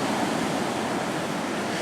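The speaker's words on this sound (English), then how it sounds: "The relentless, violent waves crashing, wetting me, as you can see." Violent storm surf pounds the shore of Stradbroke Island after storm damage, a dense, steady roar of crashing ocean waves with rough wind noise on the microphone, loud and continuous with no voices.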